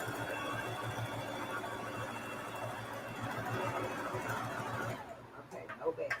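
Sewing machine stitching through an old leather belt, a quick, steady run of stitches at moderate volume that stops abruptly near the end.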